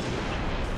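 A single heavy sniper rifle shot in Halo Reach MCC on PC, a loud, dense boom that fills the whole short moment with no gap or talk.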